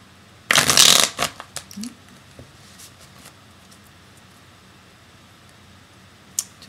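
A deck of tarot cards being shuffled in one quick, loud riffling burst, followed by a few soft taps and card clicks, then near silence with one last faint tap.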